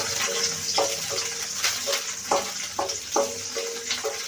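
Green chillies hit hot oil in a pan for a coconut, mint and coriander chutney, sending up a bright, continuous sizzle close by, broken by several quick stirring scrapes.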